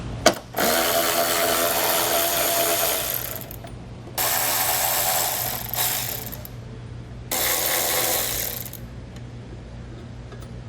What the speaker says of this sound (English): There's going to be several bolts you'll take out with a 10mm socket.